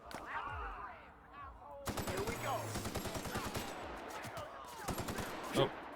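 Gunfire in The Outer Worlds video game, rapid automatic bursts of close, sharp shots in a dense rattling run, with a few further cracks and one louder blast near the end, mixed with other game sounds.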